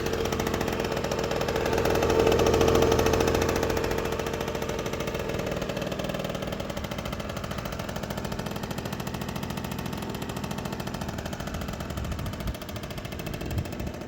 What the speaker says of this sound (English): Startup is really nice now with the new carburetor.